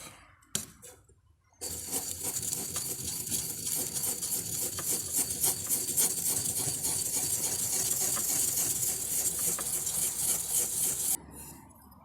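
The blade of a new hand plane is rubbed back and forth on an 800-grit sharpening stone, a steady close rasping scrape that starts after a few light knocks and stops abruptly near the end, with no talking.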